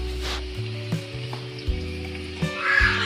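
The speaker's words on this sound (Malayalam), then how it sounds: "പച്ചമുളക് ഇട്ടതിന് ശേഷം അതിലേക്ക് സവാള ഉള്ളി ഇട്ട് കൊടുക്കുക." Three or four long-sliced onions hit hot oil already holding green chillies and sizzle steadily, a close, continuous frying hiss broken by a few soft clinks and stirs.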